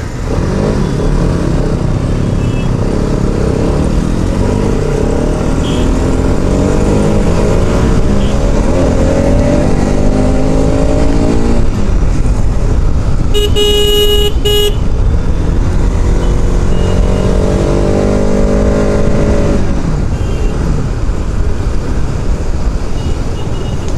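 A Bajaj Pulsar RS 200 motorcycle's exhaust fires loudly and close, its engine rising and falling through revs, with a short horn toot midway.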